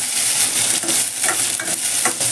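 Pieces of large green chilli frying in a hot pan, giving a steady, loud broadband sizzle with a few brief scraping stir sounds, and no voices.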